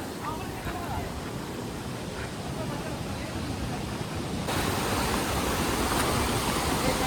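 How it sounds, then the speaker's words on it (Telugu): Kempty Falls waterfall in Mussoorie roars as a steady, dense wash of rushing water, close and loud, growing fuller partway through. "గాయ్స్ వాటర్ ఫాల్స్ సూపర్ అంటే సూపర్ ఉంది."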